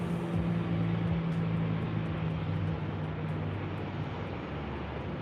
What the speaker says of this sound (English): We do have a American 737 now rolling into the gate just below us here